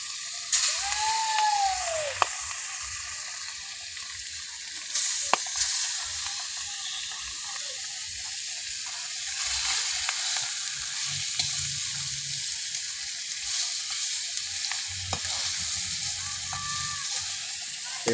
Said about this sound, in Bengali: দেখুন মাছগুলো ফ্রাই করছি